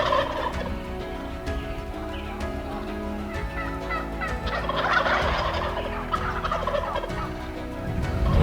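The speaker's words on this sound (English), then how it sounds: "When it's dark and they're up in the trees gobbling, it's like really loud." Wild turkeys gobbling from their roost in the trees in the dark at the start of turkey season, repeated overlapping gobbles from many birds, some near and some farther off, loud and continuous without any talking.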